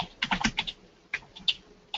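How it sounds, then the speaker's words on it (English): Typing on a computer keyboard gives quick clusters of soft key clicks in uneven bursts, close and fairly quiet, with no voices. "I don't know if someone's typing in a question."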